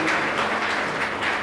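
An audience at a 25th-anniversary training-camp ceremony claps steadily, giving a dense, continuous patter of applause for a brief moment.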